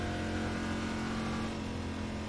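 A NASCAR race car engine at low RPM in the iRacing game at Pocono, a steady droning growl with a strong low hum, fairly faint and continuous, no voices.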